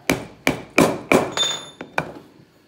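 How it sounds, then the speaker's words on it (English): Close, solid wooden thunks from a 2x4 striking the handle of a brass hammer during assembly, about six sharp blows at an uneven pace, loud and alone. "you push it together but it always gets stuck. And you hit it with a 2x4"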